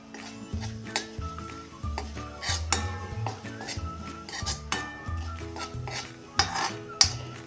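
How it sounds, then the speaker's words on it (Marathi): Cumin seeds roasting in hot oil in a pan, with repeated metal clinks and scrapes from stirring over a soft sizzle, in an uneven rhythm of sharp knocks. "आता ह्या गरम तेलामध्ये हे जिरे आपण फक्त थोडे"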